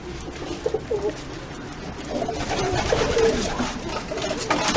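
Pigeons coo softly in a loft full of young shortface birds, giving low, repeated throaty calls that overlap under steady background rustle, moderately near and fairly quiet.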